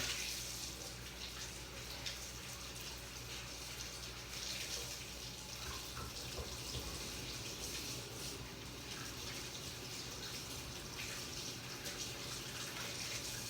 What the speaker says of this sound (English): I'm going to go wash my hands real quick